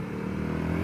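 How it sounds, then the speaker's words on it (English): A Honda CRF dual-sport motorcycle engine idles and runs close by, a steady low mechanical thrum with a slight rhythmic pulse, heard briefly on its own. "It's got a little bit of different engine sound to me."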